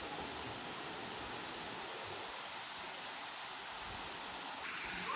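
Nhavankond waterfall in a village near Devgad pours steadily, a broad, even rush of falling water that stays constant and fairly faint throughout, with no voices.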